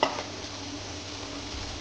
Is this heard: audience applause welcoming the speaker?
no